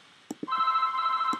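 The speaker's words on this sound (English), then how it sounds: "My phone's ringing." A telephone ringing during a Minecraft gaming session: a steady electronic ring tone sustains for about a second between a few soft knocks, clear and fairly close.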